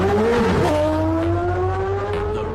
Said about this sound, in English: James, who's now warming his tyres, look